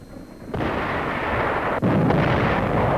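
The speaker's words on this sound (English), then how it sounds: "Our own artillery was brought to fall within 100 yards of our front-line elements." World War II artillery fire in the battle of San Pietro, Italy, rumbles as a continuous heavy roar. Two sharp onsets swell into dense, sustained booming that sounds close and loud, with no voices.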